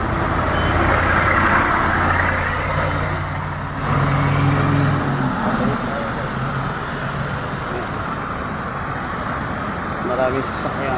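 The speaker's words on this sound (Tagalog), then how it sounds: "Maraming sasakyan." Heavy traffic from many vehicles makes a dense, steady roadway rumble with engine drone and a few passing swells, loud throughout.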